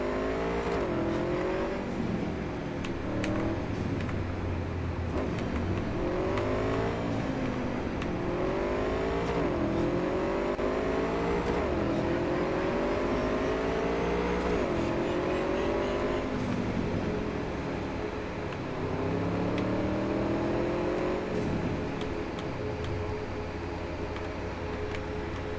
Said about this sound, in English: I like driving around on the motorcycle.